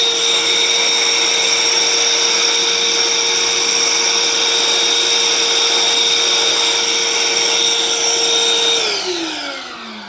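A Bosch GAS 18V-10 L Professional cordless vacuum whines loudly and steadily for about nine seconds, then powers down, its pitch sliding lower as the motor winds down.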